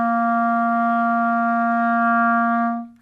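A clarinet sustains a single steady C, its first beginner note, held loud and even for nearly three seconds before stopping cleanly.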